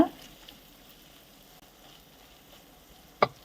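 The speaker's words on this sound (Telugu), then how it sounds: "అల్లం వెల్లుల్లి పేస్ట్ పచ్చి వాసన పోయే వరకు ఇలా ఫ్రై చేసుకోండి." Ginger garlic paste fries in oil in a pan, with a soft, steady sizzle broken by a sharp pop at the start and another near the end.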